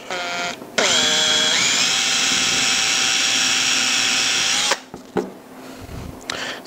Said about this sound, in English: just drill a hole through